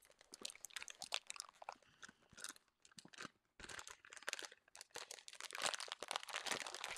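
Plastic packaging is crinkled, crunched and pulled at by hand, with no scissors. The rustling is close, dense and irregular, with bursts of sharp crackling and brief pauses, and there is no talking.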